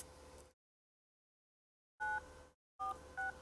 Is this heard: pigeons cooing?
no